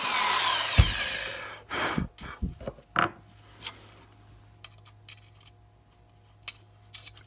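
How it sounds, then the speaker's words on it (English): Power drill boring a hole in an Altoids tin, a few short bursts and clicks with scraping metal contact, loud at first then fading into scattered faint ticks. "we're going to do my best to drill a hole"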